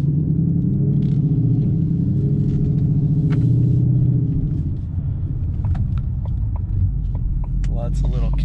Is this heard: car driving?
yes